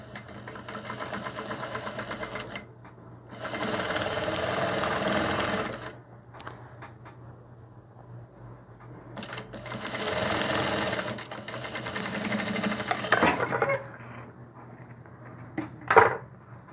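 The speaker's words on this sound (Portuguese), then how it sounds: "Vou reforçar essa minha costura, rebatendo aqui pro lado do avesso." An electric sewing machine stitching a reinforcing seam on a rag doll's fabric dress, running in two steady whirring bursts of a few seconds each with quiet pauses between, then a few short clicks and handling sounds.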